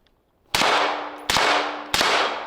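Three sharp gunshots fired at a steel target ring out about a second apart, each a loud crack followed by a metallic ringing tone that hangs briefly.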